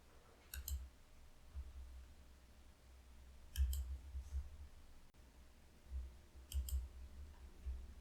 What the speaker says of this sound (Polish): Klikamy przycisk Zaakceptuj.